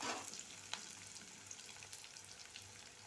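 Spices and vegetables for veg masala pulao roast in hot oil, giving a faint, steady frying crackle with a few soft stirring clicks and no speech.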